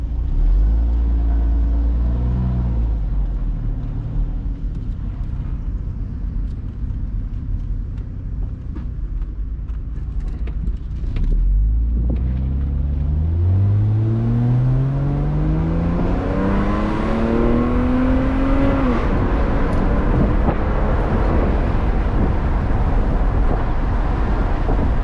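A 1996 Jaguar XJS convertible with its 4-liter inline six idles, then pulls away in a loud rising rev that climbs steadily through the gears, close and sustained with a low rumble throughout.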